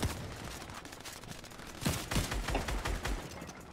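Gunfire in the video game Fortnite crackles in rapid bursts and scattered single shots, growing louder and denser partway through with no talk over it.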